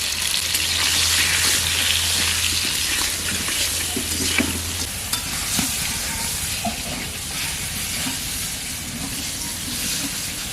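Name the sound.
pointed gourd frying and being stirred in pan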